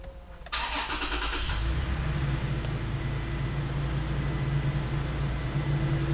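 A Toyota Tacoma pickup's engine cranks briefly and catches, then settles into a steady, loud idle that continues close by, no talking.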